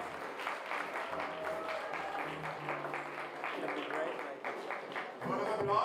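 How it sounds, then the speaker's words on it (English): An audience at an awards ceremony claps in a warm, continuous wash of applause, with voices speaking over it and the clapping swelling louder toward the end. "Let's see the applause for it."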